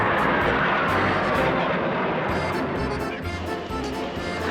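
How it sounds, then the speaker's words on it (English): A yellow and black jet performs at an air show, a loud, continuous broadband roar that stays steady and close before easing slightly, with no talking. "let's check out how this jet does during the air show performance"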